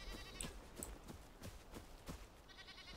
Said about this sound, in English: Here, just a goat.